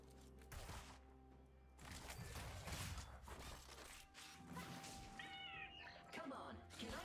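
A cat named Blitz and Crank meows near the end, a short, rising call heard over a busy mix of game sounds and a talking voice.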